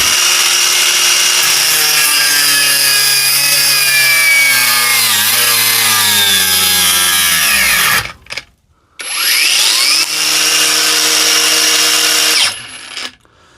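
A Parkside Performance variable-speed brushless angle grinder runs locked on, a loud, close, high-pitched whine that sags in pitch as it spins down, cuts out briefly, restarts to a steady scream and then stops.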